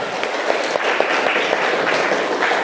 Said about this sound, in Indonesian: Oke, tepuk tangan untuk Giska.